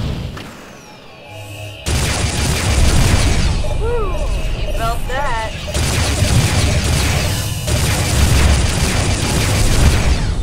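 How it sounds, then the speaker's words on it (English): Ship weapons firing on enemies during a FreeSpace 2 space battle, a dense barrage of booming bursts and thuds that runs almost continuously, loud, with chirping tones in the middle and voices talking over it. "the Duke is firing on them"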